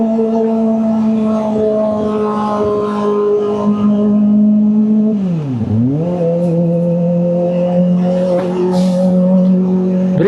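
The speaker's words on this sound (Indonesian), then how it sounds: "Berisik bener suaranya motor ini." A Kawasaki ZX25R motorcycle, seen at an authorized Kawasaki workshop for a starter bendix reset, runs loudly and close with a steady high-pitched engine whine. Midway the revs drop sharply and then climb back to a sustained buzzing idle.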